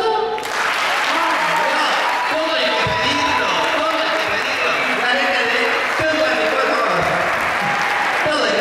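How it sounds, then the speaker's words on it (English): An audience claps at a children's Zumba world dance show at a school, a dense, loud and steady wash of applause lasting the whole stretch, with crowd voices and a few shouts mixed in. "¿Y el aplauso?"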